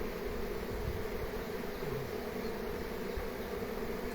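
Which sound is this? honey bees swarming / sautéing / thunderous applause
honey bees swarming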